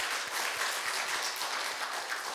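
Church congregation giving a round of applause during a worship service, a continuous wash of many hands clapping, moderately distant and steady with no talk over it.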